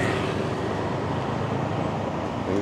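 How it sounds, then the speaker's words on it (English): Road traffic in Pattaya, Thailand, a dense continuous low rumble of passing vehicles that stays close and steady throughout, with no voices. "Traffic"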